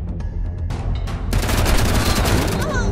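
Gunfire in the video game Wasteland 3: a dense, loud fusillade of overlapping shots that builds in intensity and carries on steadily to the end.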